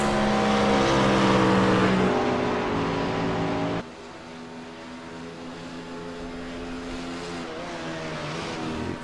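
GT3 race cars, a McLaren and a BMW, battle at Suzuka in the iRacing sim, their engines droning loud and close with rising and falling revs, then dropping to a lower, more distant hum midway.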